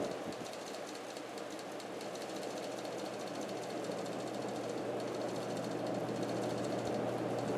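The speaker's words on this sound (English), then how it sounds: "this fan is incredibly fast and incredibly powerful" A Casablanca Gray Lady Delta ceiling fan, 42-inch or 36-inch, spins at high speed, giving a steady whooshing rush of air with a low motor hum throughout.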